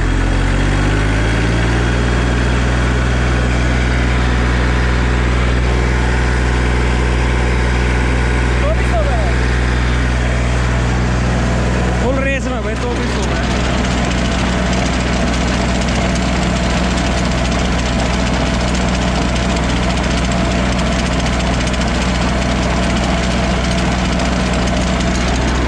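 A 1998 Massey Ferguson 35 tractor engine runs at full throttle for a PTO check, a loud, steady, throbbing diesel drone heard up close, with someone talking over it.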